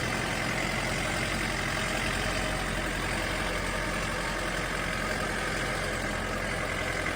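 A Chinese mini tractor engine idling steadily close by, a constant dense mechanical rumble with no change in pace and no voices.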